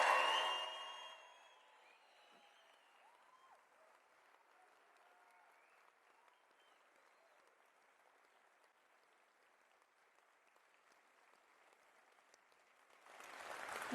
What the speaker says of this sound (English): Come on, a big round of applause.